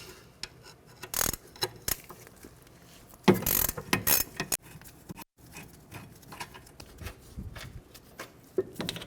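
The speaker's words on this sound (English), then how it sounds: "Remove the caliper bracket bolts using a 17mm." A ratchet with a 17mm socket loosens the rear caliper bracket bolts on a 2014-2019 Toyota Highlander, giving bursts of quick clicking that stop and start, with a louder clatter in the middle.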